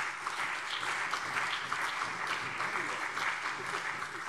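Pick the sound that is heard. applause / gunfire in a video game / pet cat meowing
applause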